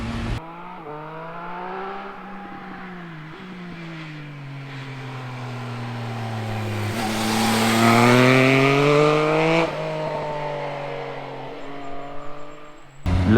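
Engine and exhaust of a Triumph Speed Triple 1050 RS motorcycle, a loud continuous drone that rises and falls as the rider works the throttle, swelling to a peak midway and then easing off.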